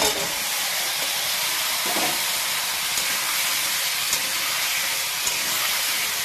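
Drumsticks and potatoes dropped into a pan of sizzling fried spices, giving a loud steady hiss and crackle that fills the whole clip with no talk.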